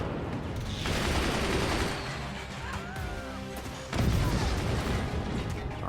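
Swarm missiles streak out of a swarm launcher in the Forts tournament battle game, a dense rolling barrage of rapid launches and impacts that swells again partway through, heard without speech.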